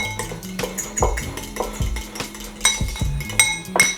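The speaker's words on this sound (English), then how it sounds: "I'm gonna give that a little mix." A fork stirs a mixture for a braised goat sandwich, clinking repeatedly against the bowl in quick, close, irregular strokes with metallic taps and scrapes, no talking.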